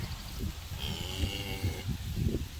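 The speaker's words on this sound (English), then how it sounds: "Guys, the cows are moving!" Cattle low and moo in a pasture, several drawn-out calls overlapping with shuffling and movement as the herd shifts, fairly close and with no talking.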